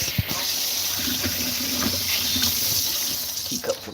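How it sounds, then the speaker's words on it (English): Tap water runs from a sink faucet into a cup, a steady hiss and splash lasting several seconds with a few clinks, heard close and fairly loud. "Fill a cup up with water."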